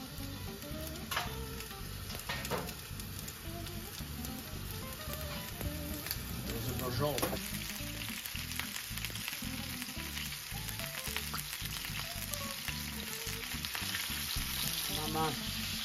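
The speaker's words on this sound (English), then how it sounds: "is frying it, searing it basically." Steady, crackling sizzle of meat for braciole searing in a hot frying pan, close and continuous, with occasional soft stirring noises.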